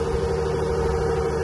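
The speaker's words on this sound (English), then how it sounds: "Most definitely a V6." A V6 car engine idling at a Manheim auto auction, a low steady rumble with a constant hum, moderately close and fairly quiet, with no talk over it.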